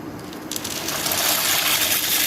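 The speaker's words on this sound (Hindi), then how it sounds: "पानी को उबाल आ चुका है। अब इसमें हम पास्ता शामिल कर देंगे।" Dry pasta tipped into a pot of boiling water, a rattling pour that builds into a steady bubbling rush and stays loud and close to the end.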